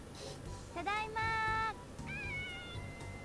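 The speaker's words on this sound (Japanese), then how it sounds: "猫が、猫がいるんですね。" A cat meows twice in a video game, a long drawn-out call followed by a shorter rising one, over a low background hum.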